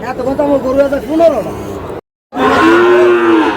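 Sahiwal bulls at a cattle market in Sherpur, Bangladesh, give loud, drawn-out moos close by, one long call, a brief silent gap, then another sustained low bellow over crowd babble.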